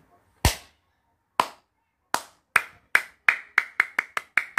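Hand claps indoors near a lit-up gaming keyboard: about ten sharp, close claps, widely spaced at first and then quickening into a fast, even run.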